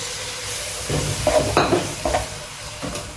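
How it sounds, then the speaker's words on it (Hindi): Chopped tomato dropped into sizzling garlic-ginger masala for dhaba-style masoor dal, a sudden burst of frying hiss and stirring scrapes close up over a steady sizzle, with no talk. "अब इसके अंदर एक लार्ज टमाटर मैंने पहले से काट के रखा हुआ था गाइस, ये डाल देंगे इसके अंदर।"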